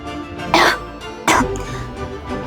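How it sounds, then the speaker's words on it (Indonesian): Two harsh coughs, close and loud, with a short pause between them and a faint rumble of background noise. "Batuk mama makin parah."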